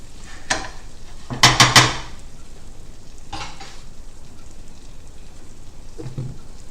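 A vegetable stir fry stirred around a pan just off the heat: a quick burst of clattering scrapes, then a couple of softer stirs over a low, quiet sizzle.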